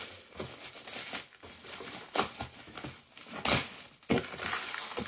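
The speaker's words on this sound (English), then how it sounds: "I can feel that there is a cardboard ridge all the way along there, so I'm just going to carefully" A knife slices along the ridge of a cardboard box, close and quiet, with irregular scraping and crinkling strokes and a few sharper tearing bursts.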